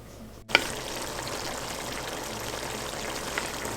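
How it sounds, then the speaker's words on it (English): Collard greens with smoked turkey simmer in olive oil on low heat. After a brief click, a steady, soft sizzle and bubbling settles in and continues evenly with no talk. "you just want to let it simmer down with that olive oil"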